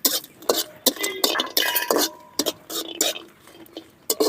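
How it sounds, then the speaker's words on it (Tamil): Dry red chillies, six of them, frying with lump asafoetida in a pan for curry leaf thokku, with repeated scraping, clinking stirs and a steady crackle in the close foreground. "நல்லா கருவாக வறுத்துக்கணும்."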